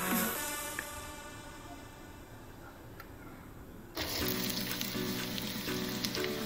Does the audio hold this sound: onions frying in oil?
yes